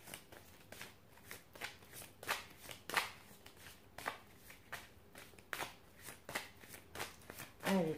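Tarot cards shuffled by hand for a love reading, with a steady run of soft riffling flicks and slaps, close and fairly quiet, with a few louder bursts and no voice.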